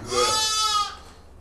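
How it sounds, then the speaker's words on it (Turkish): A Sarı Çil sheep gives one loud, close, wavering bleat that lasts nearly a second, then fades into quiet outdoor farm background. "Bak mesela şu koyun var, kuzu var bak şurada."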